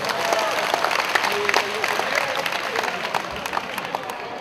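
Audience applause at a high school graduating class's 20th anniversary reunion ceremony, a steady dense clatter of clapping filling the room for several seconds, with faint voices mixed underneath.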